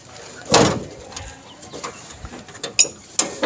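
An old vehicle's door is worked open or shut with a loud metallic clunk, followed by scattered latch clicks and rattles nearby.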